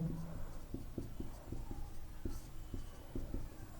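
Writing out the chemical formula for plaster of Paris by hand, heard as a series of soft, evenly spaced tapping strokes over a low steady background hum.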